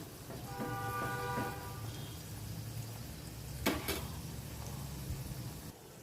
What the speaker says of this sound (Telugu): ఇట్లా మనమైతే పకోడీలాగా కాల్చుకోవాలి